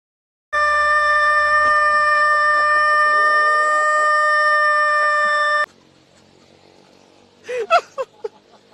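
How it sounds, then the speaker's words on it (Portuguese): A rooster crows loudly in a few sharp, close bursts near the end, following a long steady tonal hum that cuts off abruptly. "Um galo foi detido por perturbação do sossego."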